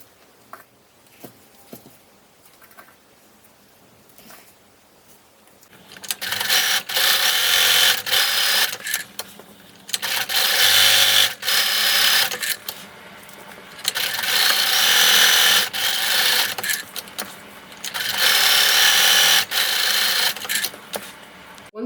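Sewing machine stitching the side seams of a fabric Christmas stocking cuff, running in three loud sustained bursts of steady mechanical whirring separated by brief pauses, close up with no voices.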